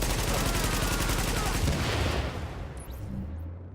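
Rapid sustained gunfire rattles in Tom Clancy's The Division, a dense continuous burst of automatic shots that fades out after a few seconds, with a faint voice near the end.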